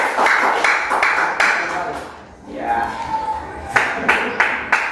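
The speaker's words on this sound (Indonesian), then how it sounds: "silakan tepuk tangan untuk kelompok C" Scattered claps from a seminar group greeting group C come in short bursts, dip briefly into near quiet, then pick up again with a few sharper claps. A voice speaks a single word over them.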